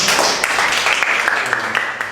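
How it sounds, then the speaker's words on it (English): Audience applause after a lecture about jobs, a bright burst of many hands clapping at close range, lasting a couple of seconds with a voice briefly audible over it. "Clap for each other"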